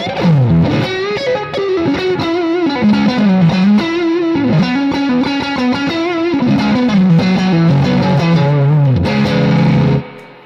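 An electric guitar runs through an amp with gain turned fully up, a heavily distorted, dense tone playing a continuous melodic line for about ten seconds before cutting off, loud and close with no talk.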